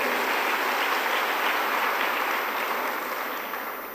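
Sustained, dense applause from an audience at a closing ceremony for the Prime Minister of Rwanda, steady and loud throughout before easing slightly toward the end.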